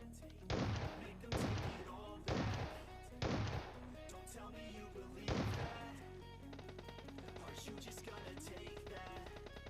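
Gunfight in the mobile battle royale game PUBG Mobile: a handful of heavy, spaced booming shots, then rapid automatic fire rattling on continuously to the end.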